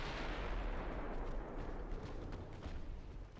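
A warship fires a naval gun salvo in the Ultimate Admiral Dreadnoughts battle game, giving a dense, booming rumble of overlapping blasts that rolls on for a few seconds at moderate volume.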